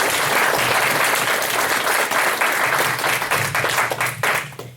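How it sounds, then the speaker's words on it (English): An audience at a candidate forum gives sustained applause, a dense, loud, continuous roar of many hands clapping that holds steady and thins slightly toward the end. "May we have a round of applause for our..."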